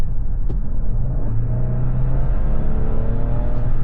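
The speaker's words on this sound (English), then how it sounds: "You can hear some whistle from the turbocharger." Engine of a 2025 Ford Ranger XLT Off Road with the 2.7L V6 pulling under load in sport mode, heard from the cabin as a steady loud rumble with rising tones as it accelerates, with a faint high turbocharger whistle above it.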